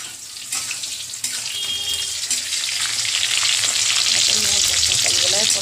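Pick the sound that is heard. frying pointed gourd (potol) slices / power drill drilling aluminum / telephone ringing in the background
frying pointed gourd (potol) slices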